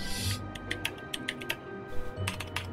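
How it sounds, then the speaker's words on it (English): Close, brisk typing on a computer keyboard, irregular bursts of sharp key clicks with brief pauses, heard alone over a faint background hum. "I'm sure you guys can hear me typing away as well."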